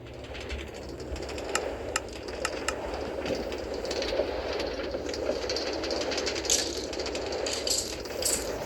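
An IC intercity train on line R80 running out of Częstochowa toward Warszawa Wschodnia gives a steady, close rolling rumble with scattered sharp metallic clicks and brief high squeals throughout, with no voices.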